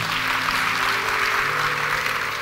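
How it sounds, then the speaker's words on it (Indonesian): A church congregation claps together during a worship service, a dense, loud, even wash of applause that continues throughout without a break. "Tepuk tangan buat Tuhan Yesus kita."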